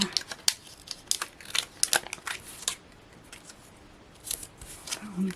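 Scissors snip repeatedly through craft card, a series of sharp close crisp cuts in irregular bursts with brief pauses, some rustling of card handled between cuts.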